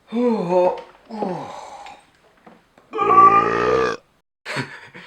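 A few vocal grunting sounds lead into one long, loud, croaking burp, followed by a short breathy noise afterward.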